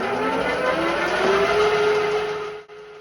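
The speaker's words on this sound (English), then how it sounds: "So I'm going to start this, then wind in a little cut on that bar and see what happens." A vintage Centec 2B horizontal mill cuts an aluminium bar with a steady whirring drone and a rising tonal whine, close and fairly loud, cutting off abruptly near the end.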